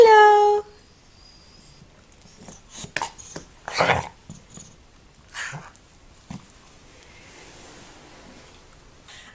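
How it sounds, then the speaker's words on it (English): A pet dog makes small whimpers, snorts and shuffling noises as it rolls around indoors, faint and intermittent in the background after a brief high tone at the start. "My dog is deciding to make little noises in the background."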